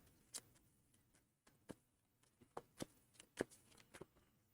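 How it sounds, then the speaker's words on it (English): A deck of cards is shuffled and handled during a Marvel Champions card game, giving quiet, separate riffs and taps in an irregular rhythm, close by with no talking. "I need to shuffle and give him a counter card."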